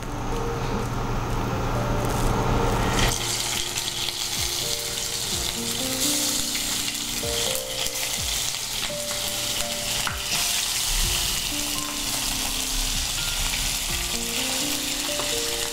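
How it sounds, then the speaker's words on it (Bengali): Hilsa pieces drop into hot oil and burst into a loud, dense, continuous sizzle that carries on close up, with faint musical tones running through the background. "তেলটা গরম হয়ে গেছে, এবার মাছগুলো দিতে হবে।"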